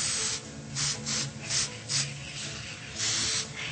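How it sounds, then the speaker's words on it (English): Short hissing bursts of aerosol antiquing spray paint repeat in an uneven rhythm, close by, about six quick puffs with one longer spray near the end. "Now this one you want to just spray lightly"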